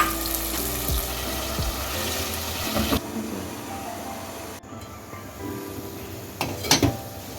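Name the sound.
water poured into pan of frying potatoes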